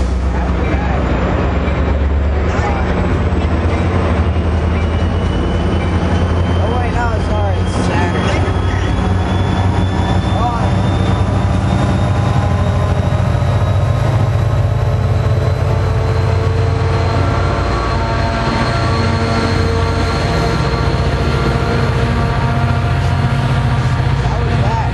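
A New Jersey Transit or Metro-North train rolls through a station in the early morning, a loud, continuous rumble of heavy engine drone and rail noise with rising high whines, steady throughout, with some talk mixed in.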